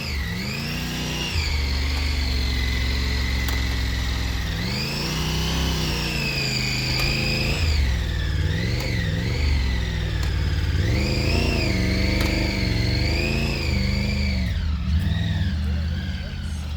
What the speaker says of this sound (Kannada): ಸೌಂಡ್ ಏನು ಸಕ್ಕತ್ತಾಯ್ತಲ್ಲ ಅದು triple engine tip line crank